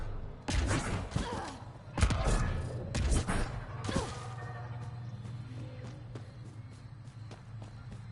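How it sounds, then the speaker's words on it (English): Gunfire in the Mass Effect Andromeda video game, with four sharp, loud bangs spaced about a second apart, followed by fainter ticking and a low hum. "Hearing gunshots."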